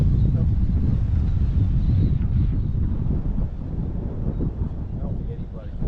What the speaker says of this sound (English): That crosswind is no joke.